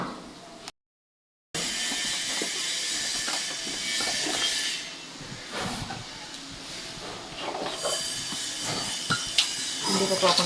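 Soaked mung beans sautéed in a hot pan in a home kitchen give a loud, steady sizzling hiss that fades briefly and surges again, with clinks and scraping of a utensil and someone talking at times.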